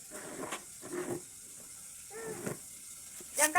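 Galunggong fish fries in a pan with a soft, steady sizzle and hiss at low level, broken by a few faint clinks and handling noises, with brief voices in the background.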